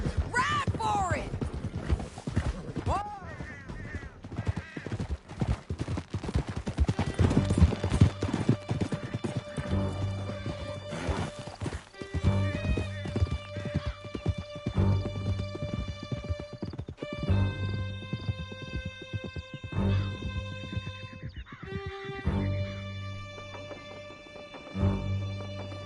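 Horses galloping at speed through a canyon in Red Dead Redemption 2, with a steady clip-clop of hooves and an occasional whinny under a layered music score and voices talking.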